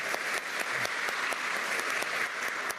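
Steady applause from a crowd at a Peruvian police medal ceremony in the Government Palace, continuous and fairly loud with scattered sharp claps, no voices over it.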